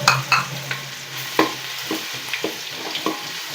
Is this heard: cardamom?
yes